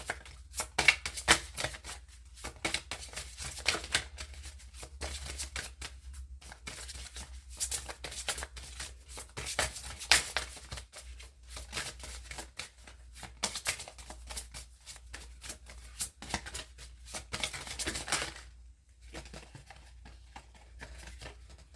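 Tarot cards from the Dark Mirror Oracle deck being shuffled and handled, a steady stream of soft papery riffles and slaps close by, continuous for most of the stretch with a brief lull near the end.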